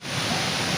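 Chitrakote waterfall in Bastar pours in full flow, a loud, unbroken rushing roar of falling water filling the whole short moment without any talk.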